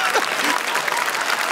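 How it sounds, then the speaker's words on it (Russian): Audience applause at a comedy club show, a dense burst of steady clapping with crowd noise throughout, close and loud. "Аплодисменты вообще."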